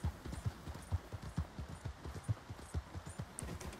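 A white horse walks along a path in Red Dead Redemption 2, its hooves clip-clopping in a steady, even, fairly quick rhythm, close and soft against a faint background hiss.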